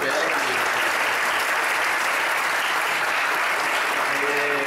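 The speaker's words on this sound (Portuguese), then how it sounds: "Palmas para ela." An audience at a university debate event gives steady, dense applause that holds at an even level throughout, with no talk over it.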